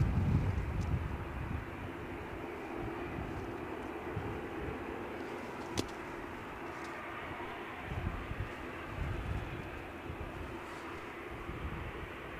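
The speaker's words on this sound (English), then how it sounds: "So the EasyJet we look at here is an A320 off to" An EasyJet Airbus A320 jet taking off from Edinburgh Airport bound for Belfast, a faint, distant engine rumble that holds steady, mixed with wind buffeting the microphone.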